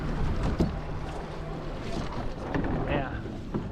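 A small sailboat tacks on Lake Brunner, with wind buffeting and water washing around the hull close by. Scattered sail and rigging rustles come through, and voices talk faintly in the background.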